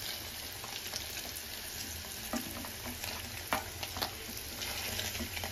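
Paneer fries in a pan for a kids' lunchbox chapati, giving a quiet, continuous sizzle with occasional soft clicks and scrapes of a utensil.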